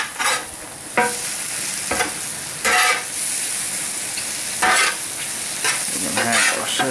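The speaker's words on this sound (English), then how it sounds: "We're going to mix all of this together." Scramble being stirred on a Blackstone 17-inch propane griddle, with steady sizzling and frying under repeated scraping strokes of a spatula against the hot flat top, close and fairly loud with no talking.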